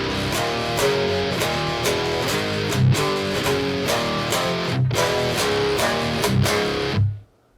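Distorted electric guitar playing a riff from a song, with fast chugging, picked notes and open strings ringing. It plays loud and alone, then stops abruptly near the end.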